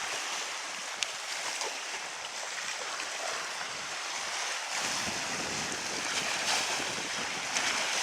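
Choppy sea waves slosh and rush steadily around a sailing boat in the Gulf of Corinth, a continuous broadband wash with wind buffeting the microphone, growing rougher and louder in the second half.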